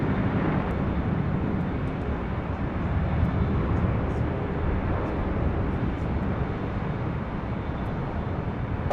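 A jet landing on runway 24 right at Los Angeles International Airport, heard as a steady, loud, broadband engine roar that holds evenly throughout with no breaks and no talking.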